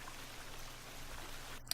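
A waterfall in the survival video game The Forest gives a steady, soft rush of falling water, a faint, even wash of sound with no voices over it.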